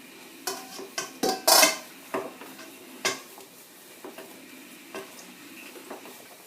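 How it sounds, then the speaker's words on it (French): A whisk or utensil works egg whites into mascarpone for tiramisu, giving irregular light taps and scraping strokes against a bowl, close and moderately quiet with pauses between strokes. "Alors il faut battre lentement les blancs de cette façon."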